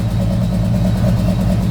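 A big six-cylinder car engine idles steadily just after starting, a loud, close, continuous low rumble with an even pulsing beat and no voices.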